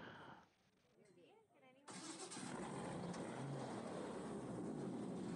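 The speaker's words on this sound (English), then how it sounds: "Okay, engine again, you're gonna scare it away." An airboat engine on an alligator tour in Florida roars up after a brief quieter stretch with a voice, then holds a loud, steady drone close by to the end.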